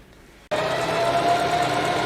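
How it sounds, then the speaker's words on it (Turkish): A Bernette Sew&go 3 sewing machine starts up after a short quiet moment and runs a steady, close, continuous whirring stretch stitch on stretch jersey fabric. "Şu anda özel streç penye dikişi yapıyorum"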